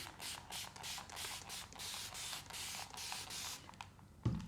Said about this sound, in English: Spraying some water.